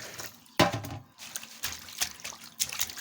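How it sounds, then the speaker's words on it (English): Vegetable leaves, including pumpkin leaf, are washed in water in a kitchen, with irregular splashes, trickles and drips of moderate loudness coming in bursts. "Now it's time for me to wash the leaves."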